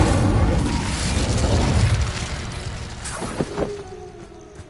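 The Incendio fire spell from Hogwarts Legacy goes off as a loud, roaring whoosh of flame that gradually fades, followed by a few small crackles and pops as it dies away.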